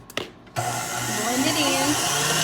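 After a brief pause, a kitchen blender mixing chocolate meringue pie filling switches on at its low setting, rising into a close, steady motor whir with a faint whine that runs to the end.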